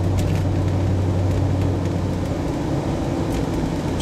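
A 1994 Ford Bronco driving down the road, heard from the cabin as a steady low engine hum and road rumble at constant level throughout, with no talking.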